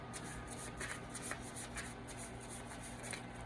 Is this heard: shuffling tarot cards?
yes